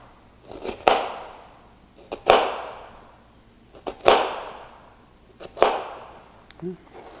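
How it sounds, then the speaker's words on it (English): A knife dices an onion on a cutting board in four sharp, evenly spaced chops, each ringing briefly before fading, close and clear with no talking. "the more of these cuts you make, the finer the dice"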